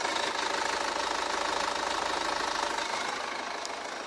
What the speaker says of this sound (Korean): 엔진 소음 먼저 들려드리면은